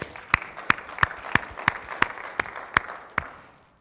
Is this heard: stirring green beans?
no